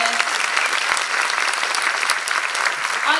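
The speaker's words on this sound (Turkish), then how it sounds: "Ama o en kıymetli alkışlarınızı ilk önce şu şahane orkestraya istiyorum lütfen." A concert hall audience applauds an orchestra at a Turkish art music choir performance, with dense, even clapping that stays steady and fairly loud throughout.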